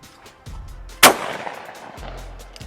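A Remington V3 Waterfowl Pro shotgun fires a single loud, sharp blast during outdoor clay shooting, followed by a short decaying echo, with quiet ambient background before and after.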